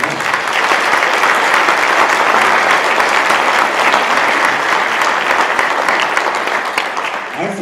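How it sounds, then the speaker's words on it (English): A concert audience at a high school band and vocal performance breaks into loud, sustained applause, dense steady clapping from many hands filling the room for several seconds without pause. "One more round of applause for that."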